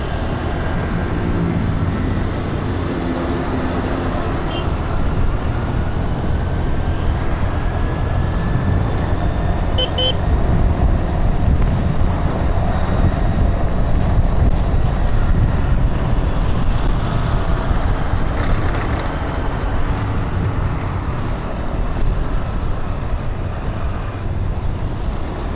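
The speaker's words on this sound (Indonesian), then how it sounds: "kita dengar suara sekitar jalanan, kayak suara mesin, suara knalpot, suara angin" Street ambience recorded through a cheap external mic on an action camera: a continuous low rumble of passing engines and exhaust with wind buffeting, a vehicle swelling past midway, no talking.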